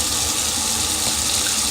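Tap water pours steadily into a sink in a continuous, loud hiss and splash, close to the microphone with no voices.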